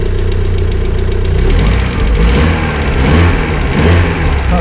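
A BMW E36 engine runs loudly close by with a rough, rapid knocking clatter, swelling and easing slightly over a few seconds.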